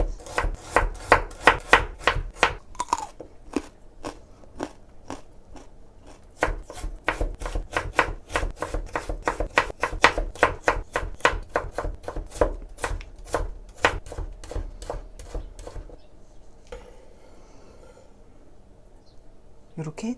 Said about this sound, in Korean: 이렇게 당근을 채 썰어 줍니다.